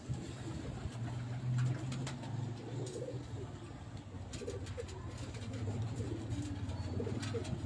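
Pigeons coo softly and repeatedly at low volume close by. Faint rustling and a little distant background noise sit underneath.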